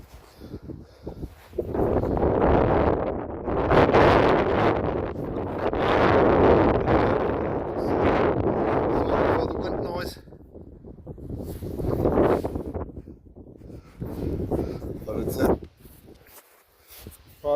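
Strong wind blows across a beach in northern Germany, buffeting the microphone in loud, gusty roaring bursts that rise and fall over the whole clip, easing briefly toward the end.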